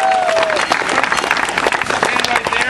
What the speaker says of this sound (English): Give this kid a round of applause, everybody.